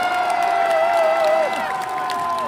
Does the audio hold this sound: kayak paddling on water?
no